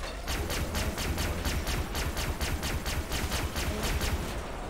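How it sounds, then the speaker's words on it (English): Rapid gunfire in the game Far Cry 3 Blood Dragon rattles in a steady, evenly spaced stream of sharp shots, loud and close, continuing without a break for the whole stretch. "Stop shooting me, everyone else."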